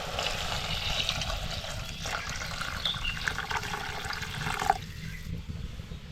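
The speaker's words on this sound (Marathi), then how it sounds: "आता आपल्याला यामध्ये ना पाणी ओतायचंय आणि पाणी पण ना आपल्याला गरमच करून घ्यायचंय" Hot water poured into chicken cooking in a pot, a continuous splashing gush with trickling liquid, fairly close and steady, easing off toward the end with no voices.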